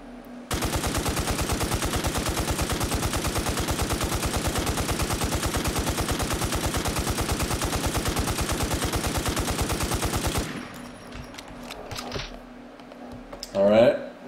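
An M249 machine gun in a video game fires a long unbroken automatic burst of about ten seconds until the magazine runs dry, loud and rapid. Quieter clicks and faint shuffling follow, and a brief voice sounds near the end.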